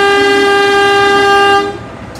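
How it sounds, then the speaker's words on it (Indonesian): A Kuto Jaya Selatan passenger train from Kiara Condong to Kutoarjo crosses, sounding a loud, steady horn for nearly two seconds before it cuts off, leaving a low rumble. "Bersilang dengan kereta Kuto Jaya Selatan dari Kiara Condong tujuan Kuto Arjo ya."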